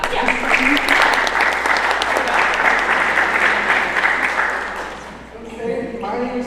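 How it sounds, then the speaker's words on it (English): Audience applause at a university club meeting rises into a dense, sustained clapping from a crowd for several seconds, then fades out as a voice begins talking. "give him a clap"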